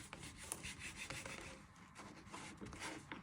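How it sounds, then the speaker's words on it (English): Soft, close rasping of a knife sawing around the edges of bread slices to trim off the crusts, faint uneven strokes in a quiet kitchen. "you're just going round it all, trimming all the edges"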